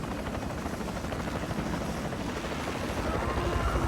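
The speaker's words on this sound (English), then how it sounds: "you've got 10 seconds to get this chopper as far away as you can" A helicopter flies with a steady, fast rotor thump and engine roar, continuous and moderately loud throughout.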